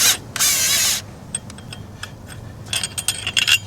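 Bolt being loosened and removed on a Polaris 330 Trailboss ATV during a drive belt change: a short burst of spray-like hiss, then scattered metallic ratchet clicks and light clinks, close and alone.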